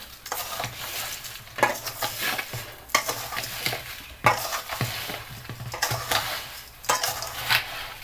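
Amla mixed with sugar in a vessel for amla candy, heard as bursts of gritty scraping and stirring with utensil clinks, repeated in rhythmic strokes with brief pauses between.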